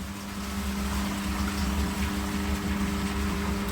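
Koi pond filter pump purging water with its air supply switched off, a steady close rushing, churning flow over a constant low mechanical hum, unbroken and without talk.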